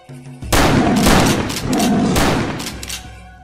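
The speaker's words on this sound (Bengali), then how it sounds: "এক্ষুনি গুলি করুন স্যার, গুলি করুন" A sudden loud burst of cartoon gunfire erupts, sustained and roaring, swelling twice before trailing off near the end.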